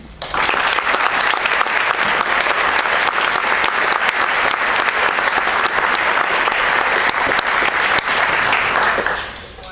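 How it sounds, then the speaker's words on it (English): A large audience at a recruit class graduation ceremony breaks into loud, sustained applause that holds steady for several seconds before tapering off at the end. "please, a round of applause for our recruit class from 2016"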